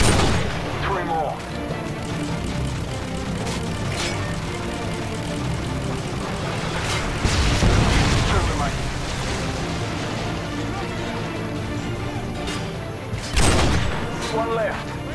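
Repeated booming blasts and a low rumble from AGM missile strikes in the video game Modern Warfare 2, Spec Ops sniper mission, with heavier explosions near the middle and end over a dense continuous game soundscape.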